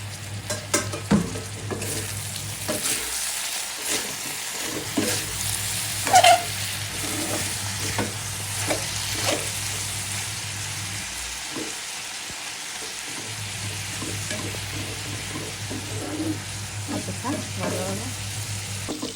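Bitter gourd slices fry in a pan with onion and whole green chilies, a steady close sizzle broken by repeated scraping stirs, with brief pauses in the frying hiss.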